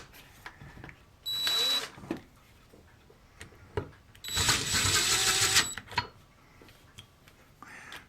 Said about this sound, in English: I'll just use my electric drill here